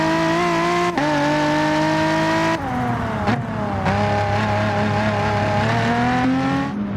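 Race car engine in Gran Turismo Sport at the Red Bull Ring during a manufacturer series race, loud and close, revving steadily with sharp pitch drops at gear shifts and a faint tire squeal, no voices.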